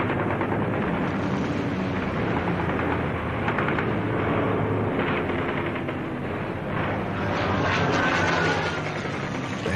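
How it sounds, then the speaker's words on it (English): WWII fighter planes in a large dogfight: a dense, loud roar of engines with bursts of machine-gun fire and explosions blending into a continuous rumble. "a big melee with 40 or 50 airplanes just going all directions."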